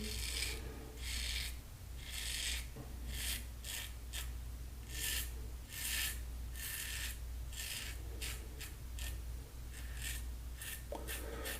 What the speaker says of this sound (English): there are a lot of times when I'm shaving in this last pass where what I'm really doing is kind of mixing some against the grain and some across the grain